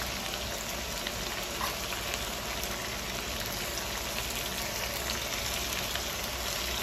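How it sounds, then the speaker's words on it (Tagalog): Steady crackling sizzle of potatoes frying in hot oil, a dense continuous hiss with no voices. "Habang ito-prito po natin yan"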